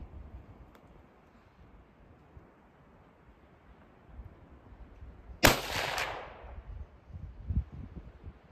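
A .223 Remington rifle loaded with light Trail Boss powder charges fires a single sharp shot outdoors, followed by a brief rolling echo, after several seconds of quiet wind noise.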